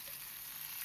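Nethili anchovies shallow frying in a pan, a soft, steady hiss of sizzling oil, faint and continuous with no talk.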